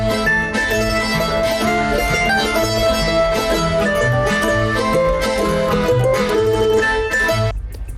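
Italian tarantella folk dance music plays loud and full, a fast, bouncy ensemble texture with steady rhythmic accompaniment, before cutting off abruptly at the end.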